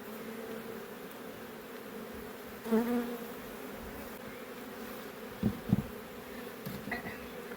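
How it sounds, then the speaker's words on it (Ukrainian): Honey bees buzzing around a beehive frame as they are shaken off, a soft steady hum with a louder bee passing close, plus a couple of brief knocks. "Зараз струсимо бджілок і заберемо рамочку з собою."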